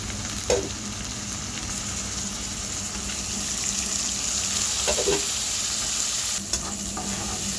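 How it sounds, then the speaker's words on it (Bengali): Fried onions with curry and cumin powder sizzle steadily in a pan, a constant hiss with a few soft stirring scrapes and taps, close and fairly loud with no voices. "এখন পেঁয়াজটা ভাজা হয়ে গেছে বেশি ভাজবো না তাহলে আবার বেরেস্তা গ্রান করবে এ কারণে মশলাগুলো দিয়ে দিলাম"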